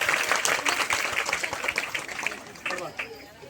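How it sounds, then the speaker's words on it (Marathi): An audience at a lucky draw event claps steadily, with dense applause under a voice talking over it, fading slightly toward the end. "याआधी या आमच्या पारख्या मुलांसाठी सर्वांसाठी जोरदार टाळ्या झाल्या पाहिजे"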